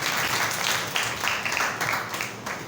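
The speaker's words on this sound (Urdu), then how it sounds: "زوردار تالیاں اس کے لیے" Loud applause from a church congregation during a Sunday service, many hands clapping in a steady, full burst that gradually tapers.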